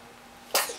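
A single sudden sneeze bursts out close by after a moment of quiet, sharp and breathy, then trails off quickly.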